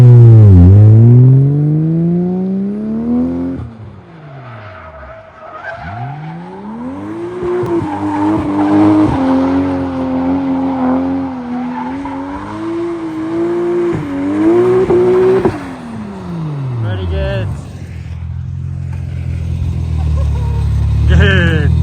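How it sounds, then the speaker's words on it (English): Car drifting and doing donuts at Ebisu Circuit in Japan, with a loud engine revving up and down through sweeping slides and sustained tire squeal, a voice talking over parts of it. "go back to another slide here, and then do another donut there"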